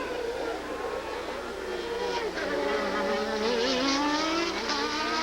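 Formula 1 cars at the 1990 French Grand Prix screaming past at race speed, a continuous high-pitched engine wail that rises and shifts in pitch as cars pass, loud and steady throughout.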